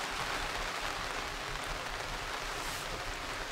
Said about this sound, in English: So the rain picked up quite a bit